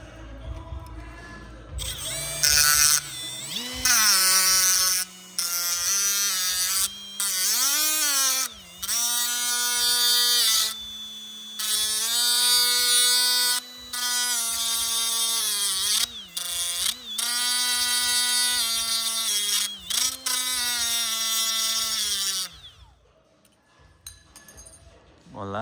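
A power tool shaving down part of a fiberglass door on a Toyota FJ40, about a dozen bursts of high whining motor that drops in pitch as it bites into the material, with short pauses between runs.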